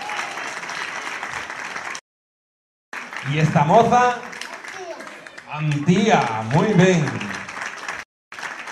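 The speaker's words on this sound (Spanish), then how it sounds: "Fuerte aplauso para Sara." Applause from an audience at a Christmas gala, bursts of clapping separated by silent gaps, with a presenter talking over the middle section.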